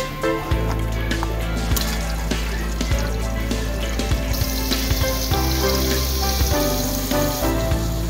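Marinated soybean pieces and roasted garam masala fry together in hot oil for soybean biryani, a steady close sizzle with occasional stirring clinks throughout.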